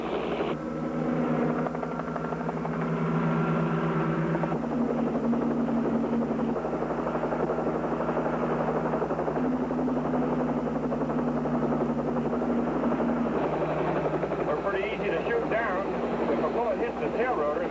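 A highway patrol helicopter thumps and whines steadily throughout an aerial chase with another helicopter, loud and continuous, while voices talk over the rotor noise.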